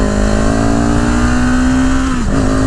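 A CFMOTO motorcycle pulls away in eco mode, its engine holding a loud, smooth, steady drone that climbs gradually in pitch, then dips briefly near the end as the throttle eases, heard close up without speech.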